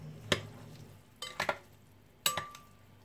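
Pearl couscous salad with shrimp being stirred in a bowl, a few short scraping clinks and brushes of the spoon in separate bursts, close and fairly quiet, with no talking.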